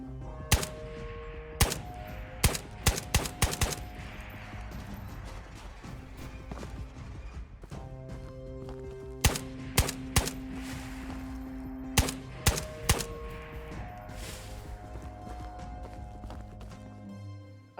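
Video game gunfire in Ghosts of Tabor: sharp, loud single shots and quick bursts spaced irregularly over a steady background of movement and ambient game noise, with no talking.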